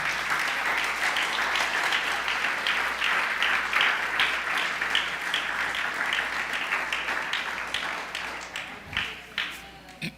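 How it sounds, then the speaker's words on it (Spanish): Clapping from a church congregation during a sermon, brisk and fairly close, holding steady for several seconds before thinning out into scattered, separate claps as it dies away. "Dale un aplauso al Creador."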